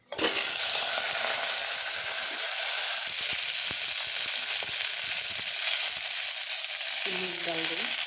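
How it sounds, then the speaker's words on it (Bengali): Vegetables drop into hot ghee tempered with cumin and bay leaf, bursting into a loud, continuous sizzle close by, with faint stirring clinks and a brief voice near the end. "ঘি ফোড়ন দিয়েছি, জিরা তেজপাতা ফোড়ন দিয়েছি। এখন এই সবজিগুলা দেব"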